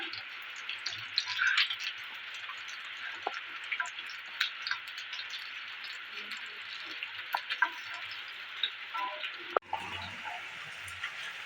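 Prawn pakoras fry in oil with a soft, continuous crackle sprinkled with tiny pops, fairly close, and a brief clatter near the end.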